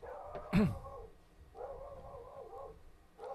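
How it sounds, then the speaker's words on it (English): An angry pet dog barking at something nearby, one sharp loud bark followed by softer growling or whining sounds, heard fairly close with no talk over it. "my dog is super angry at something"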